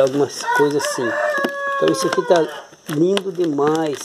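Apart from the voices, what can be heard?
roosters crowing nearby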